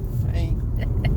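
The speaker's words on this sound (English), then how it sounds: "We're in the car and we're on the road again." Steady low interior road rumble inside a moving car, continuous and fairly loud throughout, with faint voice-like traces above it.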